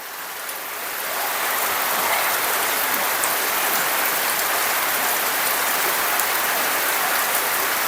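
Steady rain pours down outdoors on the way to the rice fields, a dense, even hiss that swells up after the first second and then holds constant and fairly loud, with no voices.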